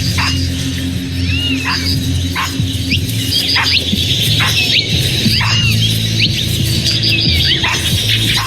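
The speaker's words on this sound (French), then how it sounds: "Soudain, les cris d'alerte d'un singe retentissent." Capuchin monkeys sound repeated high, squealing alarm calls in a forest, a rhythmic series of sharp cries roughly every second over a steady hum of background noise.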